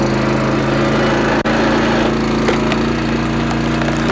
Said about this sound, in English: So we'll start splitting this log.